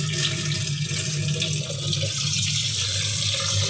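Water from a kitchen tap runs steadily and loudly into a vessel of chana dal set out to soak, a continuous splashing gush with no voices.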